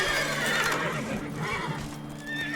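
Geralt's horse Roach in The Witcher 3 whinnies loudly up close while hooves clip-clop at a gallop, with game music and ambience running underneath.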